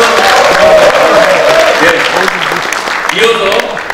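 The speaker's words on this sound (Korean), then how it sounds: "우리 다시 한번 큰 박수 부탁드리겠습니다." Big crowd applauding at a Korean political rally calling for local decentralization, steady dense clapping with a voice talking over it and the clapping easing slightly toward the end.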